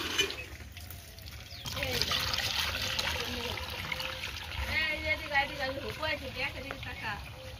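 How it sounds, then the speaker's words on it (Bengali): Water pours into a sprayer tank already holding a red pesticide mix, a steady trickling and splashing that turns into uneven glugs, with someone talking over the pour. "এখন জলটা দিয়ে দেবো।"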